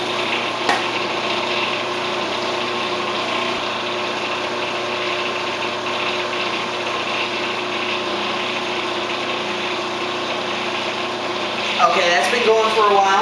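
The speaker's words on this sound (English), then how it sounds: "scrape down the sides with your spatula. But let that blend for a while" A blender whirs steadily for a long stretch as it purees a green drink, the motor's sound continuous and close with no pauses, and a brief clatter near the end.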